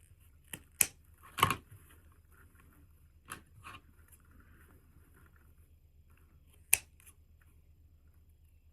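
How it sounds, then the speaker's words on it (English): Scissors snip dovetail notches into ribbon for a large patriotic bow, with a handful of quiet, sharp cuts spaced irregularly over a near-silent background. "So now I'm going to cut the dovetails on this side"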